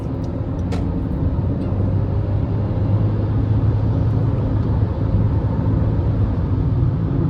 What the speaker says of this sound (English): you can hear the engine and the CVT sound when I accelerate